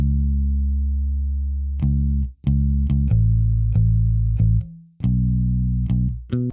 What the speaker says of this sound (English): I chose this double date preset from the Scabi Rickenbacker bass bank.